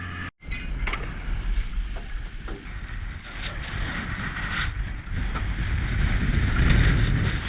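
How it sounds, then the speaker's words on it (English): Strong wind buffets an 8-foot aluminium tinny at sea off the Coromandel, a steady rushing roar with water slapping the hull, growing slightly louder toward the end. "Fuck, that's windy."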